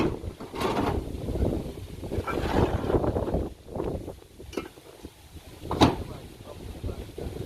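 Wind blowing outdoors at a rural home site, a steady broadband rush with gusting swells throughout, mixed with scattered rustles and a few sharp knocks, while a voice talks intermittently underneath.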